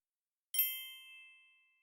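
A single clear bell ding used as a turn-taking cue in a beginner English speaking drill, struck once and ringing out with a bright shimmering tone that fades slowly over about a second and a half, heard alone with no voices.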